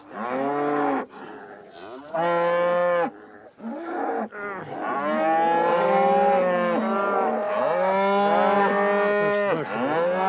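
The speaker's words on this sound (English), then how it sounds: "These ones are all breeding cows." Crossbred breeding cows on a farm on a Scottish island moo loudly and close by, with several long, drawn-out calls one after another and brief pauses between them.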